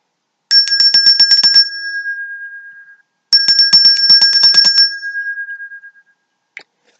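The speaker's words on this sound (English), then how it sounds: "you ring the bell as many times as desired/needed to get a meditative effect" A small ritual hand bell is shaken in two rapid bursts of bright metallic rings, each with a sustained ringing tail, close and clear, followed by a faint tap.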